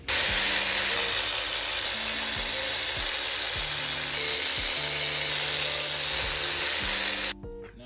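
A 3/8-inch ratchet with a cheater bar loosens bolts on a Honda/Acura engine head. It makes a loud, close, steady clicking of the pawl through repeated back-strokes, then stops abruptly near the end.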